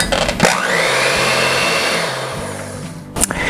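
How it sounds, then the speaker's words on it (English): An electric hand mixer whirs steadily and loudly, beating half a stick of butter with vanilla in a bowl, with a clunk of the beaters against the bowl near the start and again near the end. "using this mixer right here."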